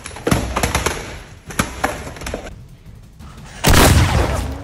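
A Nerf heavy blaster fires a rapid string of sharp, punchy shots up close, followed by a short lull and then a sustained loud burst of noise.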